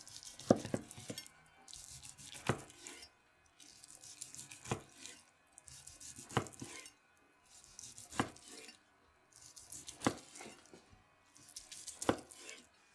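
A knife slices a roast pork tenderloin across the grain, seven evenly spaced cuts, each ending in a soft thud on the board, with quiet pauses between them and no talking.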